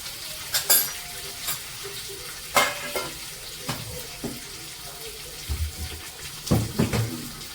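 Pumpkin pieces are stir-fried in a pan, with intermittent scraping and stirring clatters breaking through a low, steady sizzle at close range.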